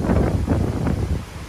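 Strong wind buffets the microphone by the sea at dusk, a loud, low, gusting rumble that pulses in waves across the short stretch.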